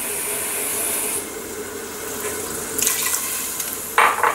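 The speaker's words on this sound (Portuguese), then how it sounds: "Vamos colocar um pouco de água." Water poured into a pan of sizzling cooking ground beef, a steady hissing wash that swells briefly with a sharper splash and sizzle near the end, no talking.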